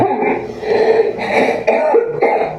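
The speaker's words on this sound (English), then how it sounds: "I just coughed up mucus" A person coughs up green mucus at close range, several harsh, wet hacks and throat-clearing sounds running together in quick bursts.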